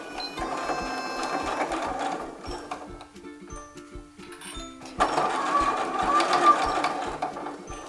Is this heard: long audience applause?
no